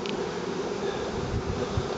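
Honey bees buzzing around a newly populated beehive, a dense steady drone of many insects up close, fairly loud and continuous with a faint breezy rumble underneath.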